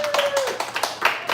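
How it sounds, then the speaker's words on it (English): Scattered hand claps from an audience at an open source AGI tech event, a few sharp bursts over a steady tone with voices mixed in, brief and moderately loud. "let's hear a round of applause for him"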